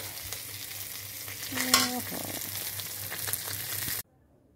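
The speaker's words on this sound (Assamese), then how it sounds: "এয়া মাছখিনি ভাজি খুব কম তেলত ভাজিছোঁ" Fish frying in a small amount of oil for an Assamese fish curry with herbs, a steady close sizzle with a few scraping stirs partway through, no talking, ending abruptly in near silence.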